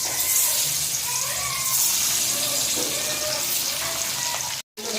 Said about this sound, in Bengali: তেল গরম হয়ে গেছে, ডিমগুলো ভেজে নেব।